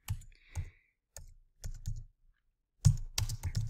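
Computer keyboard keys tapped in several short bursts of clicks with gaps between them, close and fairly quiet, no talking over them.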